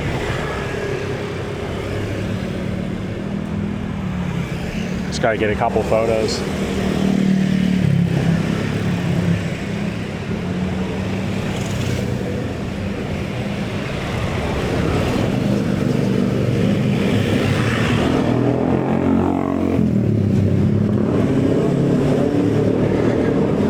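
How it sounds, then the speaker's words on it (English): Busy street traffic on a Canggu shortcut in Bali, with loud motorbikes and cars passing close by in a steady roar, engines rising as they accelerate, and a brief spoken remark partway through. "This is the crazy Bali traffic everybody talks about."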